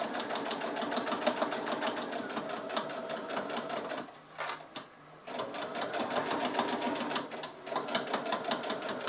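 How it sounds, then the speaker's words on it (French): Domestic sewing machine stitching a seam on a baby sleeping bag, a steady rapid mechanical whir with a brief pause at the back-stitch midway, then running on close and continuous. "Et c'est parti pour la couture."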